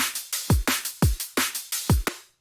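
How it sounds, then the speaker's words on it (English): Loud electronic drum loop at 172 BPM in a music production session, with punchy kicks and snappy snares hitting in a fast, tight repeating pattern, played alone and close. "We got some drums and they sound like this."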